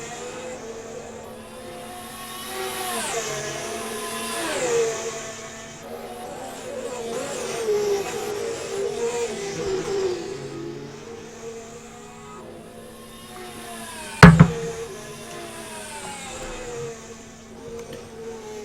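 Race cars circulating during preseason testing at Bahrain, engines rising and falling as they accelerate and pass at a distance, with one sharp loud burst near the end.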